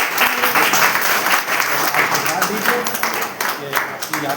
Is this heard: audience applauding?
yes